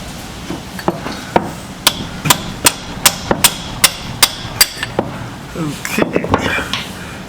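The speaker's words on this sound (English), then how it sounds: "Now we can use the hammer and chisel to tap the other end of the axle out of the" A hammer strikes a chisel to tap an axle out of a Toyota Corolla 7AFE transmission, a run of about a dozen sharp, evenly paced metallic taps close by, then a few scraping knocks.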